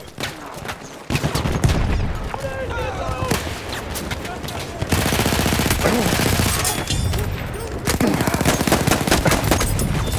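Mortar blasts and rapid gunfire from the Battlefield video game crackle in dense, overlapping bursts, loud and continuous after a brief quiet start, with players' voices mixed in.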